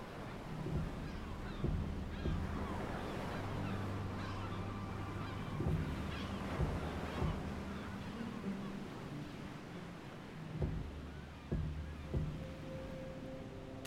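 Breeding gulls on the Canary Islands call in repeated harsh, honking cries over a constant wash of surf, some calls near and loud, others fainter, spread irregularly throughout.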